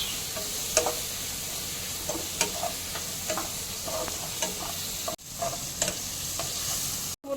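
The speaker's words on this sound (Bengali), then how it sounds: "জলটা খুব ভালো মতো করে কষিয়ে চিকেনের জলটা শুকিয়ে নিচ্ছি।" Chicken with ginger, garlic and green chilli paste fries steadily in a pan, a constant close sizzle punctuated by regular scraping stirs of a spoon, with no voices.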